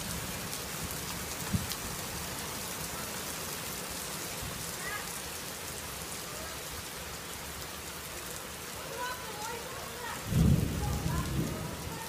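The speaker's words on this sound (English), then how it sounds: "If you hear the roaring of the thunder," Heavy rain pours steadily during a thunderstorm, a dense hiss throughout, with a low rumble of thunder rolling in near the end and a brief deep thump earlier on.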